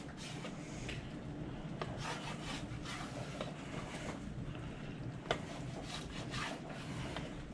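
A knife saws through a smoked brisket point, cutting it into roughly one-inch cubes with quiet, steady back-and-forth strokes and a single sharper tap.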